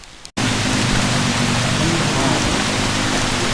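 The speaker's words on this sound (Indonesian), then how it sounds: "Hujan teman-teman." Heavy rain comes down suddenly after a brief quiet moment, then pours on as a loud, constant hiss from close by, with no speech.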